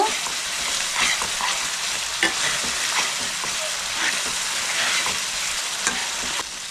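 Onion paste sautéing and being stirred in a pan for a Bengali fish curry, a steady close sizzle with frequent scraping stirs throughout and no talking.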